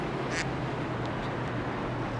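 One sharp cartoonish duck quack plays as a sound effect during a live sim-racing broadcast of an iRacing ICON Cup Series race at Kansas, over a steady engine drone, followed by a couple of fainter blips.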